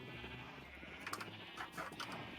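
Faint Minecraft sheep bleating, with a few short quavering bleats over soft background hum and no speech.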